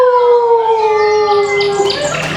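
A young voice imitates a rooster's crow, one drawn-out call gliding downward and ending in a higher squeal, close and clear.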